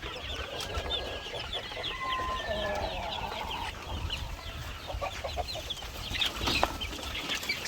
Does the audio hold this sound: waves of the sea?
no